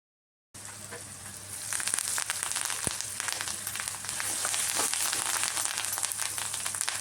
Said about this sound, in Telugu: ఉప్పు, పసుపు యాడ్ చేసుకొని ఇలా 1 నిమిషం పాటు వేగనివ్వాలి